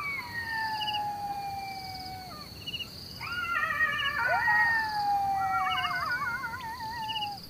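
Jackals howl at night in the wild near a cheetah family, with several long wavering howls rising and falling in overlapping chorus at a moderate distance over a faint insect hum.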